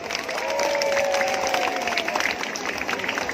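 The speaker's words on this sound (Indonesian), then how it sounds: "Coba tepuk tangan untuk Pak Menteri" A large outdoor crowd at an education rally in Makassar claps for the Minister of Education, a sustained wash of applause with scattered cheers and a few distant voices mixed in.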